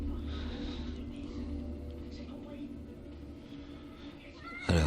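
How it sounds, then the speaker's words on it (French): A black cat meows in the horror video game The Evil Within, its cries audible over a steady ambient hum and a voice talking. "un chat noir"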